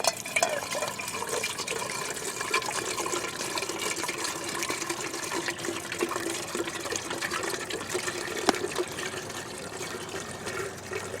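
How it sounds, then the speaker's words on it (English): Water poured from a two-quart canteen into a coffee pot outdoors beside a campfire, a continuous splashing, filling stream that holds steady for about eleven seconds, close and without talk. "I want to see how far 2 quarts of this canteen goes in this coffee pot."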